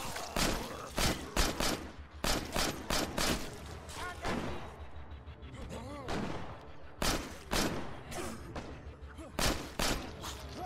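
Rapid bursts of gunfire from State of Decay Remastered, with close, loud shots in quick clusters and short gaps between them throughout, and a voice talking faintly under the shooting.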